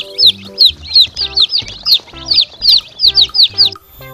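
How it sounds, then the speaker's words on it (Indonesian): Toy chicken or animated chicken clucking in a colorful animal-hauling kids' setting, a rapid series of bright chirpy clucks in rhythmic bursts, close and loud, with no talk. "Wadidaw, ternyata ada si ayam Rembo"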